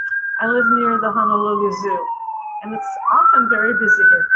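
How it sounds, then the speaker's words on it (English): Emergency vehicle sirens wail outside near the Honolulu Zoo, a steady falling-and-rising tone running under close indoor speech throughout. "you can hear the sirens going by right now."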